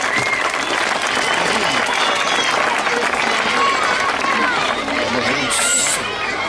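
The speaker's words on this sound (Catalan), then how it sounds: "Un aplaudiment, molt bé." Applause from a group at a Catalan gathering about peace, a steady dense patter of clapping with lively chatter and shouting voices mixed in throughout.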